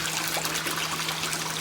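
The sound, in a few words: water flowing between aquaponics fish tanks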